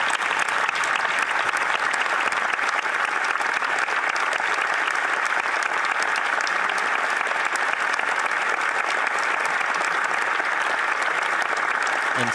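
Sustained applause fills a parliamentary chamber during Question Period, a dense, even wash of many hands clapping at constant loudness for over twelve seconds.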